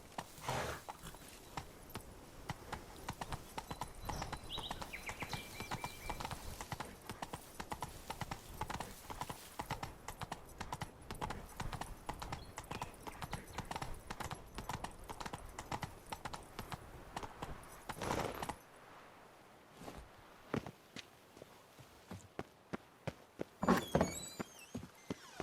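Roach the horse gallops in The Witcher 3, with rapid, steady hoofbeats pounding close by for most of the stretch before easing into a few scattered steps and thuds.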